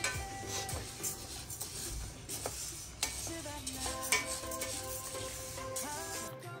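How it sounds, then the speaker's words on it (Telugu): Urad dal stirred and frying in a pan for sunnundalu, a steady soft sizzle under repeated scraping and clinks of a spoon against the metal, close by with no talking. "సున్నుండలకి అయితే ఇలాగా మినపప్పు ఫ్రై చేసుకుని ఇంకా పక్కన పెట్టేసుకున్నారు"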